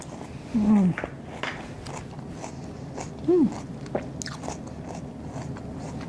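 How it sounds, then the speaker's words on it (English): Biting into a forkful of watermelon feta salad with onions, mint and balsamic glaze: soft crunchy bites and chewing, close and fairly quiet, with a couple of brief voiced sounds. "Let's get a bite of everything."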